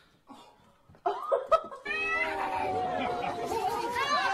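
A cat meows amid overlapping voices and laughter, its rising, wavering cries running through the second half of the clip under loud chatter.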